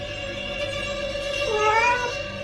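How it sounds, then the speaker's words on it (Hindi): A cat meows in a drawn-out, wavering cry with no talk, rising and swelling louder near the end, close and clear over a faint background hum. "तभी मैंने एक बिल्ली को नीचे से बेड पर कूदते हुए देखा।"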